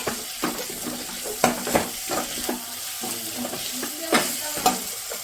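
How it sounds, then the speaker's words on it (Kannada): Gram flour being stirred into potato palya in a hot pan, a continuous gentle sizzle broken by repeated spatula scrapes and taps against the pan, close with no talking. "ಕಡಲೆ ಹಿಟ್ಟು ಹಾಕಿ ಒಂದು ಅರ್ಧ ನಿಮಿಷ ಈ ಥರ ಆಡಿಸ್ಕೊಂಡಿದ್ದೀನಿ"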